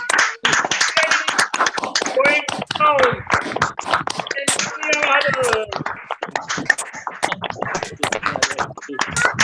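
An audience claps in welcome at a teaching session, with many quick hand claps forming a ragged patter under a voice speaking over them for most of the stretch.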